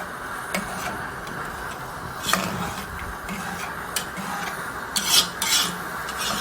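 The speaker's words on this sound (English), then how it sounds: "at this point I can now put in some meat stock. I'll stir this and leave it to boil up." Ogbono soup being stirred in a pot after meat stock is added, a spoon scraping and tapping the pot in scattered strokes over a low bubbling hiss, close and moderate, with no speech.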